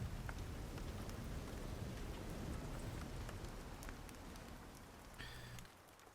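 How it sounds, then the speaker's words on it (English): Heavy rain falls steadily as a dense, even hiss with soft patters, faint overall, and a brief low rumble of thunder near the end. "there's still a bit of thunder and lightning going with some heavy rain"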